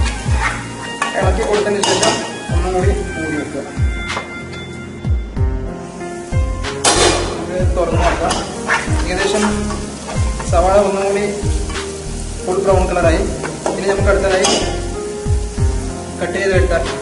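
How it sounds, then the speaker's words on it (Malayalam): Green chilli, garlic and ginger are stirred in a frying pan for a Kasargod-style chicken curry, with busy spatula clatter and scraping over a low sizzle and a voice faintly underneath. "പച്ചമുളക് വെളുത്തുള്ളി ഇഞ്ചി ആഡ് ചെയ്തതിന് ശേഷം ഒന്ന് നന്നായി ഇളക്കി കൊടുക്കുക"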